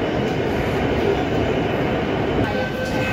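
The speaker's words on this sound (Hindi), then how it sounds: "70 किलोमीटर प्रति घंटे की रफ्तार से ये मेट्रो भागने वाली है" Steady, loud rumble of a Mumbai Metro train running on Line 2A/7 between Andheri and Dahisar, heard from inside the carriage at speed, with continuous wheel and motor noise and a faint whine near the end.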